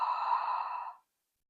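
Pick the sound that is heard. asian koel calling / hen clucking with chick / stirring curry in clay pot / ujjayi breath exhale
ujjayi breath exhale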